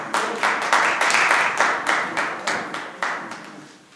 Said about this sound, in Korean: 박수로 보내드리겠습니다.